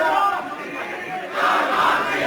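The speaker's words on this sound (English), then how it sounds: "As the crowd shows their voice," Crowd noise at a schoolboys' rugby league match, a broad sustained roar of many voices from the stands, swelling louder midway and holding steady to the end.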